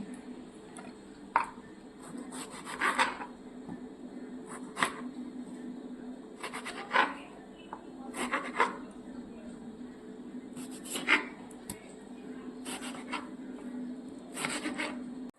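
A knife cuts a tomato into pieces for a vegetarian mixed-vegetable curry, making short, crisp strokes against a board about every second or two, close by over a low steady background hum.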